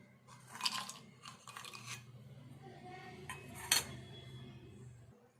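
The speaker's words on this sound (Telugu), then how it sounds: "ఇప్పుడు ఇవి ఇట్లాంటి రోట్లో వేసుకొని దంచుకుందాం" Roasted ingredients for laddu being pounded in a stone mortar, a few sharp crunching thuds spread unevenly over quiet background, fairly close and moderately loud, with no voices.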